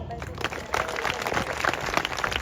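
A crowd at a medieval festival at the Château de Crazannes applauds as a fighter is introduced before a knights' combat, an uneven outdoor clapping with cheers mixed in and a voice talking over it.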